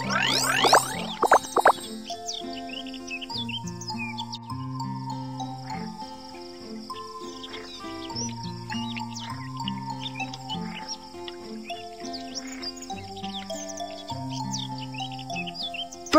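Bright bird chirps and cricket-like trills in a children's cartoon farm scene, scattered high tweets over a bouncy melodic music backing, with a busier flurry of calls at the start.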